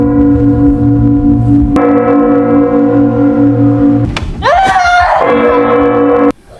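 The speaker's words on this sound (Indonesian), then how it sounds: "ia berusaha keras membunyikan lonceng sebanyak 3 kali." A church bell in a horror film rings out three loud strikes, each a sharp metallic clang with a long ringing decay, the third blending into a swelling dramatic tone.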